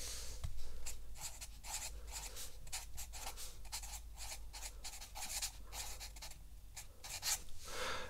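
Pen or marker strokes drawing a straight line on a physics diagram, heard as a steady run of short scratchy writing strokes, close and quiet, with no talking.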